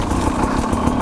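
A Sherco 250 SE two-stroke dirt bike engine runs steadily close by, a continuous buzzing drone with no break.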